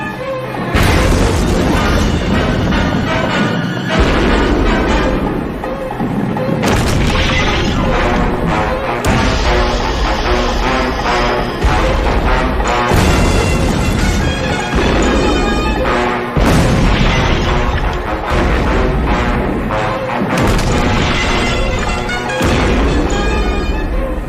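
Booming blasts from an explosion in a gas-filled place in a Thunderbirds episode, loud and continuous, with repeated heavy bursts and crashes layered over dramatic music throughout.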